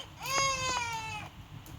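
A baby in a video game cries in one drawn-out wailing burst with a wavering pitch, followed by a short sob near the end, close and fairly loud.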